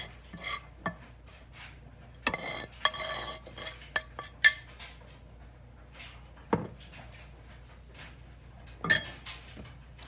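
In a kitchen, a spoon scrapes leftover cake mix from a box, with scattered clinks, scrapes and taps of utensils and dishes at close range in a quiet room.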